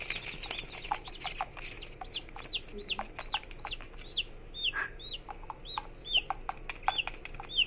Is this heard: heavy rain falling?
no